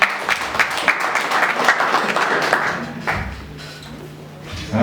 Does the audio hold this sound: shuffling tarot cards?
no